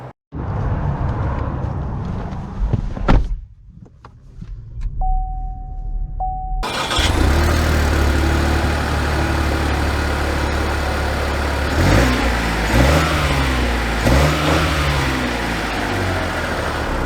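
A 2022 Chevy Trailblazer LT, front-wheel drive, cranks and catches, then settles into a steady engine drone that swells twice as the car pulls away and accelerates, heard from inside the cabin.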